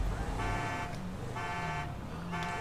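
A car alarm sounds in GTA 5, cycling through repeated pulsing horn-like tones about once a second over a steady background of game noise, with some faint voice underneath.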